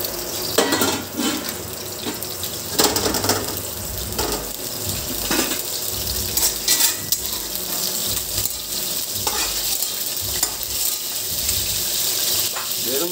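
Garlic and onion sautéing in cooking oil for tuna kaldereta, a steady hissing sizzle broken by intermittent clatters and scraping of utensil against pan, moderately loud with no talk.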